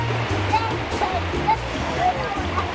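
Heavy rain pours down outdoors in Africa, a dense and steady rushing hiss that stays loud throughout, with a voice faintly underneath.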